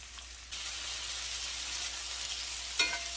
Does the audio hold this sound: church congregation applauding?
no